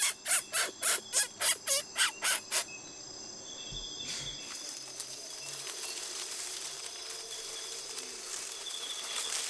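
A Sánema hunter in the Venezuelan forest mimics bird calls: about nine quick, evenly spaced piping whistles, fairly loud and close, then a steady chorus of crickets and insects fills the rest.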